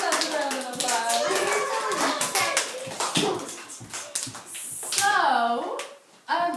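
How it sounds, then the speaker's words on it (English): A class of first- and second-grade children claps in a classroom, with quick scattered hand claps mixed in with lively children's voices talking and calling out throughout. "Give yourselves a round of applause."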